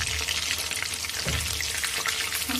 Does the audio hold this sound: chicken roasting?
yes